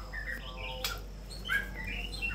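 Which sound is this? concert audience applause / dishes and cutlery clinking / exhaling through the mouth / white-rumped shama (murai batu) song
white-rumped shama (murai batu) song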